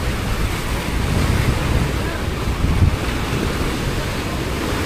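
Pacific Ocean waves about 3 to 4 feet high wash and churn continuously while wind buffets the microphone, a loud, steady roar with no pauses.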